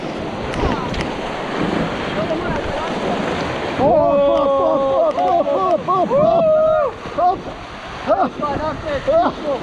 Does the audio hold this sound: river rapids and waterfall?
yes